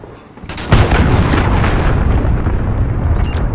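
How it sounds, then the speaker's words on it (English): A cruise missile blast in a video game: a sudden loud boom hits after a brief quiet start, then a dense rumbling roar sustains to the end. "Enemy cruise missile incoming!"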